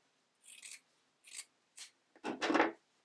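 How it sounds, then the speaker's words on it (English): Scissors trimming back foam padding on a knit fabric bra, with four separate cuts, each a short crisp snip or rasp, and the last cut longest and loudest, in a quiet room. "So I'm just trimming this back."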